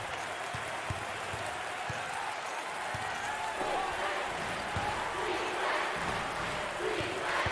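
Basketball arena crowd during an LSU vs Vanderbilt SEC Tournament game, a steady loud roar of cheering and clapping with ball bounces, commentators talking over it.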